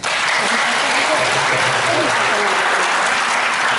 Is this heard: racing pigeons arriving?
no